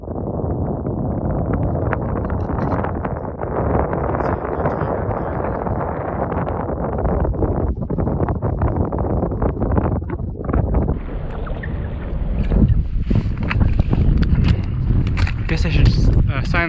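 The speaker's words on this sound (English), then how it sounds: "Kind of windy up here." Strong wind buffets the microphone on a snowy mountain peak near South Lake Tahoe, a loud continuous roaring rush with gusty swells, while a person talks through it.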